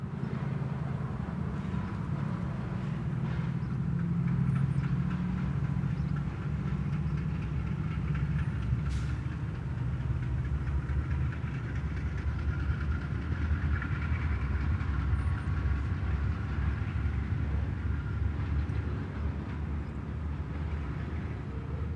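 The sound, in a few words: freight train moving along tracks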